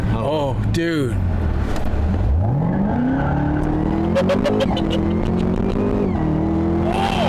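A 10-speed Chevrolet Camaro ZL1 launches hard and pulls through the gears, its engine note climbing steadily with quick shift dips, loud and close inside the cabin while excited voices talk over it.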